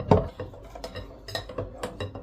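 A utensil whisks pancake batter in a bowl, producing several quick, close clinks and scrapes in an uneven rhythm, fairly quiet, with no talking.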